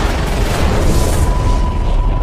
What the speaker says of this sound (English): When a star explodes